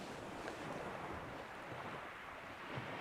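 Sea surf and steady wind roar along Chesil Beach in Dorset during shore fishing, a continuous broad wash of breaking waves and gusts buffeting the microphone, with no voices.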